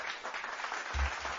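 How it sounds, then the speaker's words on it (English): Brief, fairly faint patch of applause during a casual podcast episode, a soft wash of clapping lasting only a moment with a low thump near the end. "He really deserves the applause right now."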